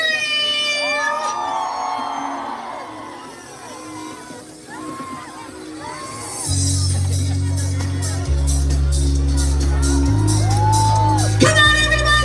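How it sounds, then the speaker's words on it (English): A livestream concert crowd screams, whoops and cheers loudly in a large venue, a dense roar of voices that swells and continues under a loud, steady musical drone. "Let me hear you scream!"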